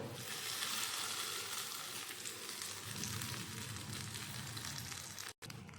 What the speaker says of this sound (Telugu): ఇప్పుడైతే ఈ పోపును చట్నీలో వేసుకుందాము